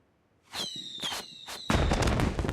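Fireworks go off nearby in several sharp crackling bursts, with a whistling tone and then a dense, loud crackle at the end.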